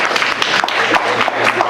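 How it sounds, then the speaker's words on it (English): An audience at a video game convention panel claps steadily for under two seconds, a dense, even patter of many hands close by. "give him another round of applause"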